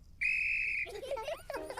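A police whistle in a Peppa Pig cartoon gives one loud, steady shrill blast lasting more than half a second, followed by cartoon voices talking.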